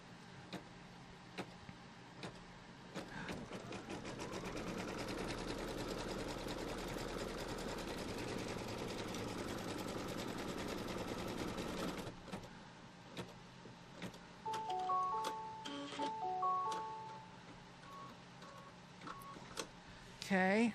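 A machine embroidery sewing machine stitches quilt fabric for a Kimberbell Pumpkins & Potions quilt, giving a steady, rapid mechanical whir and tick for about twelve seconds before stopping, followed by scattered clicks and short electronic beeps.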